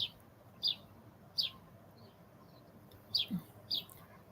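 A pet bird gives five or six short, high chirps spaced a second or so apart, faint and alone against a quiet room.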